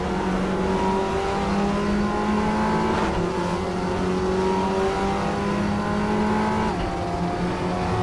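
An Audi race car's engine in the RaceRoom Racing video game drones continuously at high revs with brief dips at gear changes, a steady, dense simulated engine tone throughout.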